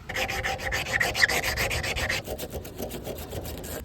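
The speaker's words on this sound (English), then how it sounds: "So let me start sanding this down." Close, steady hand sanding on a part for a Daihatsu Midget build, a continuous scratchy rubbing with repeated back-and-forth strokes that loosen slightly toward the end.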